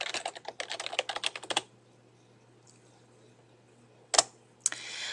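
Rapid typing on a computer keyboard while working in Microsoft Access, a quick run of clicking keystrokes followed by a pause and a couple of isolated clicks.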